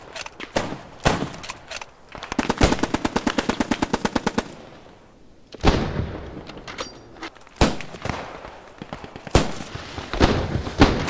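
Video-game gunfire in a team shooter, with sharp single shots and a long rapid machine-gun burst, then scattered loud reports, close and without speech.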